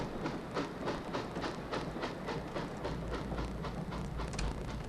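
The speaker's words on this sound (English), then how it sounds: "it sounds like the train's moving" A moving train in The Last Express adventure game, with a steady rhythmic clickety-clack of wheels over rail joints on a low rumble, held at an even moderate level without speech.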